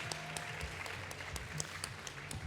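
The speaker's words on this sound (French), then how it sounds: "Un tonnerre d'applaudissements pour elle." Audience applause for a guest speaker at a talk about water scarcity, a steady wash of many hands clapping at moderate distance, sustained and even with scattered sharper claps.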